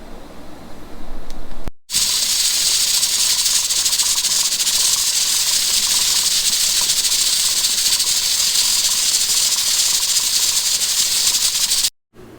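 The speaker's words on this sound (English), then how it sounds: "put them in the pressure cooker, take them up to 15 psi" Pressure cooker at 15 psi sterilizing jars of mushroom growing material gives off a loud, continuous, steady steam hiss that starts abruptly and runs unbroken for about ten seconds before cutting off.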